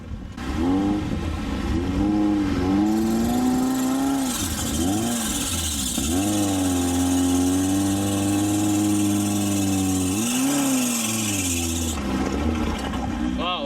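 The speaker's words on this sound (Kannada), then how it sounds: "ಸೊ ಡ್ರಿಫ್ಟ್ ಮಾಡ್ತಿದಾರಲ್ಲ ಫ್ರೆಂಡ್ಸು, ನೋಡ್ಬೋದು." Car engines rev and whine continuously as vehicles drift across sandy, beach-like ground near an island temple, loud and close, with shifting pitch as the drivers accelerate and ease off, and people talking over the noise.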